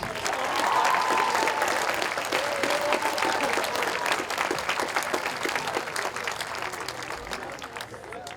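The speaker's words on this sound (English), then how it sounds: "Could we have one more round of applause for all of our 8th graders?" Audience at a middle school 8th grade graduation ceremony gives a sustained round of applause, dense clapping from a large crowd that stays loud throughout and tapers slightly toward the end.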